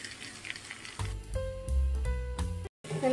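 Boiled potatoes and a tempering hit hot spice masala in a pan, setting off a loud, sustained frying sizzle with stirring clatter, a brief gap near the end, then the hiss resumes.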